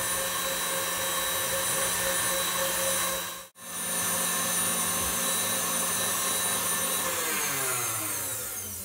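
Electric mixer whirring steadily as it beats egg yolks with sugar into a ribbon for tiramisu ice cream, a loud continuous motor hum that cuts out briefly in the middle before resuming.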